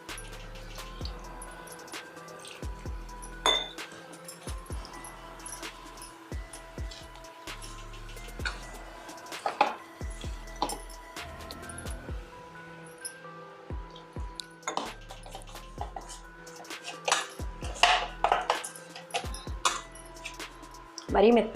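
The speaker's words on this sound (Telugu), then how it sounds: "ఇప్పుడు కొద్దిగా నీళ్ళు వేసుకుంటూ కలుపుకుందాం" Onion samosa dough is worked by hand in a bowl as water is added, with soft squishing, kneading and occasional clinks against the bowl in an irregular rhythm, close up, under intermittent talking.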